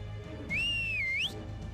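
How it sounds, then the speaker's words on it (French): A single clear whistled note rises, dips and slides upward again, lasting under a second over a steady low background hum. "elle siffle"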